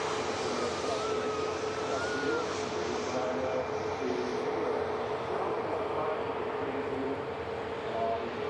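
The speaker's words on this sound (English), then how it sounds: "here comes Wendy Darling, beautiful A350" An Airbus A350 airliner taxis at Manchester Airport, its engines giving a steady distant whine and broad roar with a faint tonal hum, continuous throughout with no voices.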